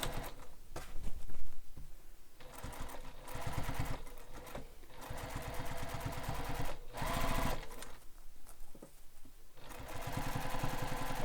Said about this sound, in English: Now I'm going to top stitch again this seam just like we did on the other side